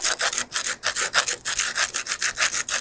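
A keyhole saw with carbide tips cuts mortar out of a historic brick wall in steady, rhythmic rasping strokes, about five per second, close and loud with no talking.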